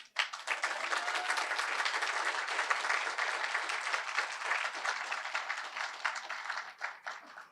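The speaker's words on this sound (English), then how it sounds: "please stand up and give them a round of applause" An audience applauds at a State of the City event, a steady wash of many hands clapping that runs for several seconds and then tapers off.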